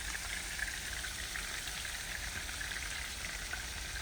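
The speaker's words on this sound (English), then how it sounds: "It smells good frying too." Pieces of food fry in a pan until browned on each side, giving a steady, even sizzling hiss that holds at the same level throughout with no one speaking.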